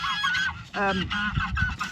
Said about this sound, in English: My geese are loud.